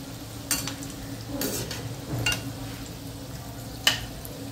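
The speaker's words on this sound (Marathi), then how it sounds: "असं तेल सोडत हे गुलाबजामाचं तळून घ्यायचे।" Gulab jamun deep-frying in very hot oil, a continuous low bubbling sizzle with a few sharp clinks of a utensil against the pan, close and without talk.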